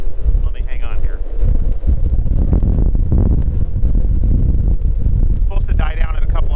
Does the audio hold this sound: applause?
no